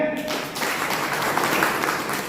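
An audience at a large business meeting claps in a dense, continuous wash of applause, loud and even throughout.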